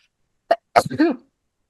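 A single short sneeze bursts out, followed moments later by a longer second sneeze with a voiced tail, close and fairly loud in an otherwise quiet room during a tabletop role-playing game session.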